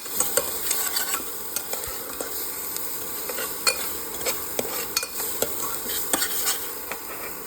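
Moong dal with chilli fries in a pan while a spoon stirs it, giving a steady sizzle broken by frequent scraping clicks and taps against the pan. No one speaks.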